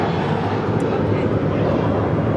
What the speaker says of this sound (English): Flight 915 departing to Guadalajara on an A321